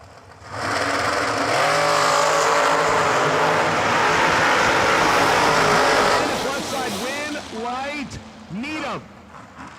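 Dragster race cars at a drag racing event, engines roaring loudly and steadily from the line through a run, then dropping away into rising and falling passes, with an announcer talking over the noise.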